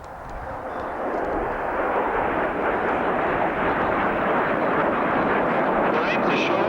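Patrouille de France jets roar through their final bomb burst at the 1990 RAF Abingdon airshow, a loud, broad, continuous rumble that swells in the first second and then holds steady to the end.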